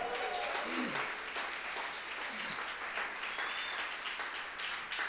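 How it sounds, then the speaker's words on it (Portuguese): Church congregation applause rises as a broad, even wash of clapping, fairly faint and roomy, lasting several seconds with a few voices and cheers mixed in. "Quem vai dar um aplauso a Jesus?"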